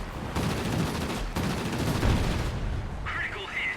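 Warplane machine guns firing in the combat flight game World of Warplanes, rapid rattling bursts with brief pauses under engine drone, ending in a short high electronic cue.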